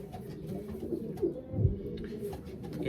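A male racing pigeon coos low and soft in a club loft before basketing for a 383 km race, a few murmuring coos over a busy background of other birds.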